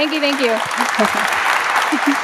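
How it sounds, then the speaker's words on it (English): Audience applause after a talk at a web performance conference, a short burst of clapping running beneath a person speaking. "everyone give her a round of applause"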